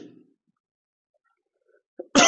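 After a near-silent stretch during a lecture, a short, sharp cough bursts out loudly close by, right at the end.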